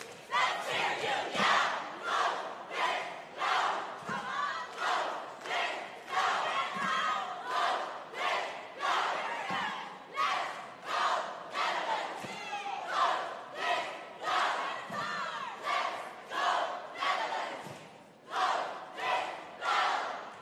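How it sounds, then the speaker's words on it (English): A large crowd roars and chants in rhythmic bursts during the all-girl elite finals of the 2024 ICU World Cheerleading Championship, loud pulsing shouts that rise and fall steadily throughout. "They've got the support of the crowd, that's for sure."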